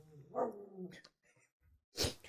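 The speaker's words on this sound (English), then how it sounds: "Why are you barking now?" A dog barks a few times, close by but fairly faint, in short uneven bursts separated by quiet gaps.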